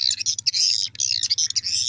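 Recorded swiftlet calls played from a phone speaker at an unfinished swiftlet house, a dense run of high, rapid chirps and twitters that repeats continuously, fairly loud and close with no talking.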